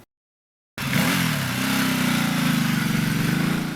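After a moment of silence, the 150-horsepower V-twin engine of a 2013 Ducati Multistrada 1200S motorcycle rumbles to life and runs steadily with a throbbing, pulsing beat, close and loud.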